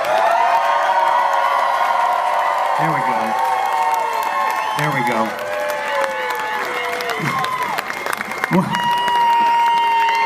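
A large crowd at a concert at Des Moines Social Club cheers, whoops and claps loudly and continuously while someone speaks over the din.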